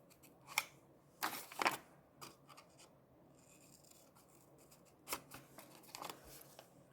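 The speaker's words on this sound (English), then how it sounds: "it's just as easy to do it with the scissors" Scissors snip curves into the corners of a handmade paper envelope, in quiet, close clusters of crisp cuts separated by pauses and light paper rustling.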